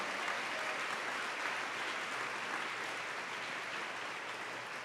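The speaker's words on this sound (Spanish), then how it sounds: "Alguien que dé un aplauso al Rey" Steady applause from a church congregation during a sermon, a continuous even wash of many hands clapping, soft and distant in tone, with no voices over it.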